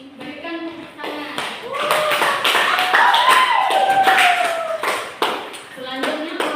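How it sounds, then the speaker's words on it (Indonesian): A class applauds at the end of a group's presentation during a discovery-learning microteaching lesson, with a burst of steady clapping lasting several seconds and voices mixed in. "Berikan tepuk tangan."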